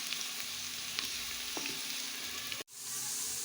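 Onions sizzle steadily in hot oil as they turn golden brown for a keema and shimla mirch (minced meat with capsicum) dish, with a brief stir and a short break in the frying hiss near the end.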